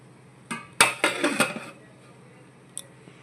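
A lid is set onto a pot of paneer biryani with a few close metallic clanks and rattles in quick succession, then a single small clink a moment later in a quiet kitchen.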